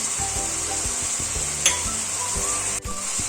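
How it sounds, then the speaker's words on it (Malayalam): Slit green chillies and two tablespoons of finely chopped garlic sizzle in a hot pan for a chicken curry with coconut milk. A close, steady frying hiss runs throughout, with rhythmic stirring scrapes and one brief clink. "ചെറുതായി അരിഞ്ഞു വെച്ചിരിക്കുന്ന 2 ടേബിൾ സ്പൂൺ വെളുത്തുള്ളിയും കൂടെ ചേർത്ത് കൊടുക്കാം"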